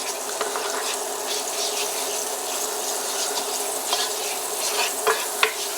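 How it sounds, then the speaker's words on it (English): Butter and spiced rum sauce sizzles in a pan while being stirred, a steady close crackle with scattered scraping and clinking of the utensil and no speech. "So we're gonna brown this butter a little."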